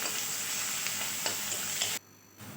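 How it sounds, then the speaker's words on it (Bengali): Chopped onions frying in a pan for a Bengali fish curry, a close continuous sizzle with a few stirring scrapes, cutting off abruptly near the end before a faint return. "এবার কেটে রাখা পেঁয়াজগুলো দিয়ে দিলাম পেঁয়াজগুলো একটু লাল করে ভেজে নিতে হবে"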